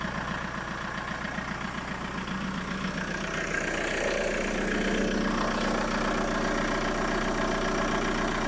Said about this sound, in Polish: Tak silnik brzmi z tej strony?